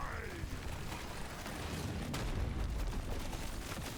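Explosions in the Deep Rock Galactic Survivor video game boom and rumble in a dense, continuous roar, with a low sweeping tone and steady blasts building toward the end.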